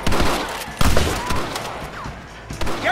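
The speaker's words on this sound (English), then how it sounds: "Open fire!" Gunfire in the Western video game Red Dead Redemption, several sharp reports scattered over a noisy battle backdrop, the loudest bursts near the middle and end.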